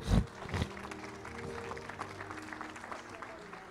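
A church congregation applauds the Lord, a burst of clapping near the start that fades into a softer, continuing patter of hands, with voices murmuring underneath.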